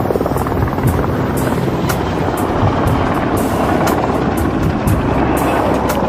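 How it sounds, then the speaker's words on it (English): An unmarked Black Hawk-type military helicopter circles a mountain peak, its loud rotor thumping continuously with rhythmic blade chop and engine roar, close and dominant throughout. "The helicopter is an unmarked Black Hawk-type chopper, often used by special forces."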